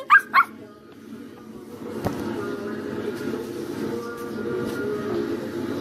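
Two quick, sharp yaps from a small dog in a cartoon at the start, followed by a steady low rumble like a moving train, with faint voices underneath.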